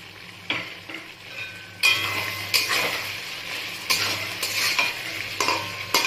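Vegetable biryani is stirred in ghee in a hot pan: a soft frying sizzle runs underneath while a utensil scrapes and clatters in repeated strokes, close by and without talk.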